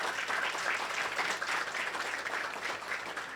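An audience claps steadily throughout at a lecture and swearing-in ceremony for a vice-president and council members, the applause dense and sustained at an even level without pause.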